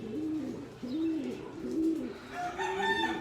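Pigeons cooing close by in a loft full of birds, with several soft, rolling coos in succession and a brighter chirping call overlapping near the end.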